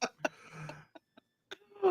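A few short, dry coughs and throat sounds come in scattered bursts, close and fairly quiet, with a brief voiced murmur at the end.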